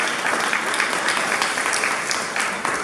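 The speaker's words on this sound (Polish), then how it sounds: "brawa dla nagrodzonych w kategorii firma roku" Dense, energetic applause from an indoor audience at a regional awards ceremony in Opole county, Poland, honouring company-of-the-year winners; many hands clap steadily and close for the whole stretch.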